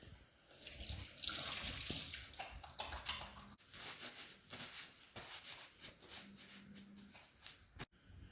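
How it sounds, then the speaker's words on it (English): Tap water runs steadily into a sink while hands are washed, splashing and shifting as the hands move under the stream, then stops abruptly near the end. "Roll up long sleeves and wash hands."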